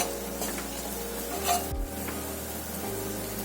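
Malvani masala is stirred and fried in a pan, a low steady sizzle with soft scraping strokes of a spoon, quiet and close, with a brief louder scrape midway.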